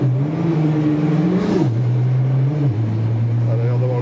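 Tuned 1800 hp Nissan GT-R idling and blipping, a close steady engine drone that rises briefly and drops back, heard from inside the car, with some talk.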